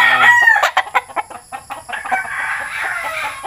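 A fighting rooster crows loudly and close, followed by a run of rhythmic clucks and softer chatter from the fowl, with no talking over it.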